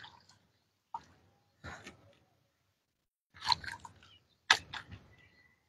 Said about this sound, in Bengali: তার আগে ফেলার আগে এটা একটু ধুয়ে নিই